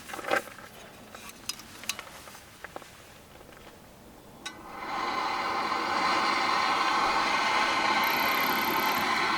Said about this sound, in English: That sound is the flame.